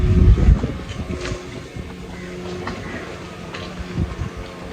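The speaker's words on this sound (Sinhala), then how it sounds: "අපේ බෝට් රයිඩ් එක මෙතන ඉවරයි." A safari boat on the Madu Ganga river in Sri Lanka gives a low engine rumble under gusty wind noise, with a few faint knocks as the ride ends.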